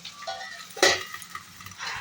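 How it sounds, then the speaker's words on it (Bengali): Okra and potato fry in a pan with a soft, close sizzle. A single utensil knock or stir stands out midway. "তো আমি এখন বসিয়ে দিয়েছি ঢেঁড়স আলু ভাজাটা"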